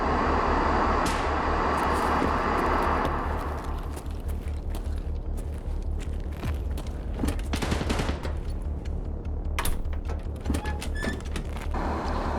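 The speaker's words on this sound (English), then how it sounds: "I can hear the sound of the gunshots over the airplane above me" Bursts of distant gunfire crack repeatedly in the video game Escape from Tarkov over a heavy droning airplane engine rumble overhead, with sharper nearby shots standing out in the second half.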